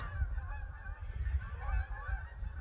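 Canada geese honk in a loose, overlapping chorus at a moderate distance over a wetland, over a low rumble of wind or background noise.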